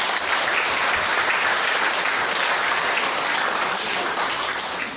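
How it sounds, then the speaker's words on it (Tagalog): An audience at a church feast celebration claps together in a sustained, dense round of applause. It holds steady and loud for the whole stretch with no clear voices above it. "Pumalakpak naman po dyan yung mga gusto maging happy."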